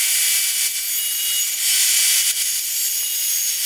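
A plastic Subaru bonnet scoop being cut apart with a power tool, a loud, continuous high-pitched grinding rasp with slight dips in intensity, close up and without talk.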